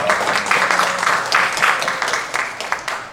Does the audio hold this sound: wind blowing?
no